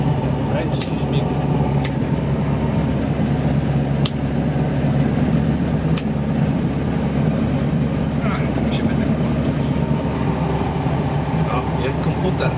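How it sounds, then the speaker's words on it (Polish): The high-revving engine of a light aircraft in flight over Warsaw drones steadily and loudly throughout, with a voice talking over the cabin noise. "To jest silnik szybkoobrotowy"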